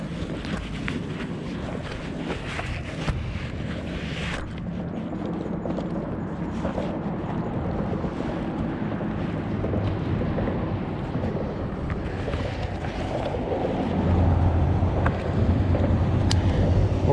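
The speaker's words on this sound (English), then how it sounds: "We have a couple of speedboat coming by." A couple of speedboats pass on the water, a steady engine drone that swells toward the end, blended with wind buffeting the mic and wave wash.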